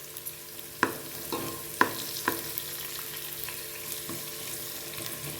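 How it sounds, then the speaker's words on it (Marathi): Cumin seeds frying in a pan of oil with onion, a steady sizzle under sharp spoon clinks and scrapes at irregular intervals, close and moderately loud. "1 चमचे जिरे टाकून घेते."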